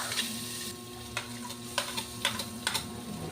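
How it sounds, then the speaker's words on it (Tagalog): Onion and garlic sauté in a hot pan, with a steady close sizzle and occasional sharp scrapes and clicks of stirring, no talk. "Gisahin na natin ang ating mga pangpalasa."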